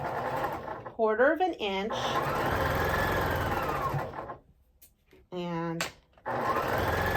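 A sewing machine stitches four-patch quilt pieces, a loud rapid mechanical whir in close bursts that stop and start, with someone speaking briefly between runs.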